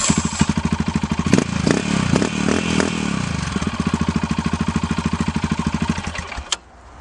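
A Yamaha XT 660 Z single-cylinder with a budget aftermarket exhaust fitted with a dB killer idles close up in a fast, even thumping rhythm, with a few blips of throttle before the engine cuts off near the end.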